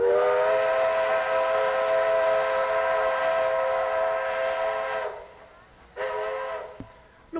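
Vale tourist train leaving Ouro Preto station blows its whistle: a loud, sustained harmonic blast for about five seconds, then a shorter second toot, with low rumbling rail noise underneath.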